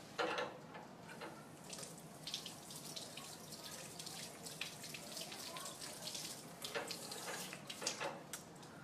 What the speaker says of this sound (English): Go ahead and rinse that off.